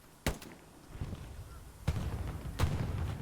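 Gunfire in Hell Let Loose during a competitive match on Carentan, with three sharp, loud shots spaced out over rumbling background battle noise.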